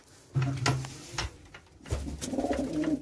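Pet pigeons coo in low, throaty rolling bursts close by, two separate bouts with brief pauses, among them a female from a kept flock.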